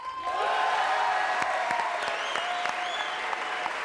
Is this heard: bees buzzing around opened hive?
no